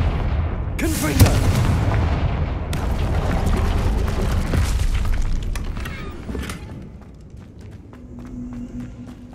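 Fiery Confringo spell blasts in Hogwarts Legacy, a run of loud booming impacts and crackling bursts with footsteps, fading to quieter rumbling and faint effects by the end.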